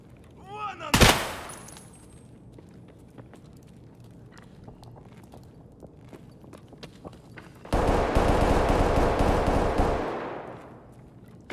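Gunfire from a hard-recoiling gun in a video game: a sharp single shot early on, scattered quieter clicks and movement, then a loud sustained burst of automatic fire for a couple of seconds.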